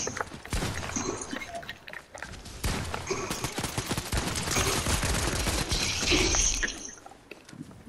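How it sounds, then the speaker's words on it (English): Rapid video game gunfire in Fortnite, a dense, continuous rattle of close, loud shots in quick bursts, with brief gaps and a final flurry before it tapers off. "Nate, is that you shooting?"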